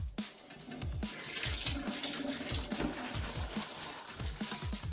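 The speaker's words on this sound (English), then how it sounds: "once you turn on some water" Tap water runs steadily in a bathroom tub while a tile scrubber brush works the surface, a close, even rushing hiss with a soft rhythmic scrubbing pulse beneath it.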